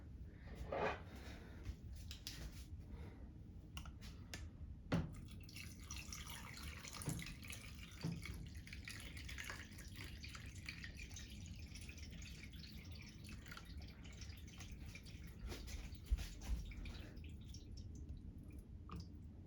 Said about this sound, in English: I see water dripping from there.